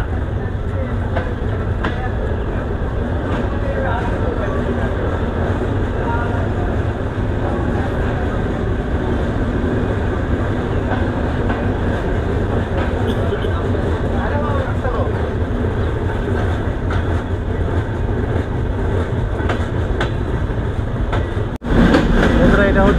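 Steady rumble and rhythmic clatter of the Sundarban Express riding over the Padma Bridge, heard from inside an AC compartment, loud and continuous throughout with faint voices mixed in and a brief dip near the end.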